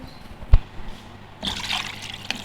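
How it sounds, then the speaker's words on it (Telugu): Water splashes into a cooking pot of chicken for mandi rice, a short soft pour after a brief knock, close and alone. "ఇప్పుడు వాటర్ వేసుకోవాలండి"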